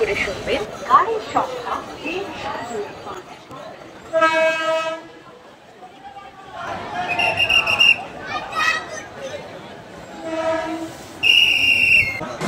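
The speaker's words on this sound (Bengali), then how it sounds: "আমাদের ট্রেন প্ল্যাটফর্মে ঢুকে পড়লো 5 নাম্বার প্ল্যাটফর্মে" A Bengal local train pulling into platform 5 at Seoraphuli junction, with loud blasts of the horn and the rumble of the carriages rolling in, while a voice talks over the noise.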